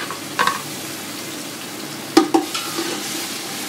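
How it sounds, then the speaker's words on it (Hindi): Paste frying in hot oil with a low steady sizzle, punctuated by a few clinks and scrapes of stirring, no voices. "अब अदरक लहसुन का पेस्ट डालेंगे"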